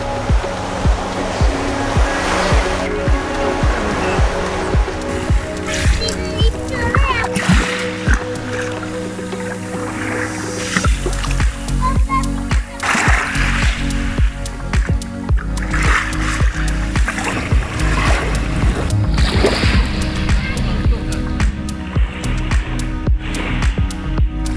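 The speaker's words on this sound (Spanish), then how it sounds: "me gusta escuchar el mar golpear las piedras" Continuous surging roar of sea waves breaking and washing against rocks at Marina Piccola, Capri, loud and close, with splashes rising and falling throughout.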